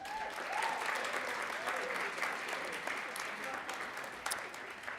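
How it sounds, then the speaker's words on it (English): Audience applause for faculty members at a college event, a steady, dense wash of clapping that holds for the whole stretch, moderately near, with a few voices murmuring underneath. "Please give them a round of applause."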